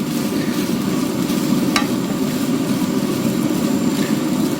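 Rice noodles and vegetables are stirred in a pan, producing a continuous close sizzle and scraping with a sharp clink partway through, with no voices.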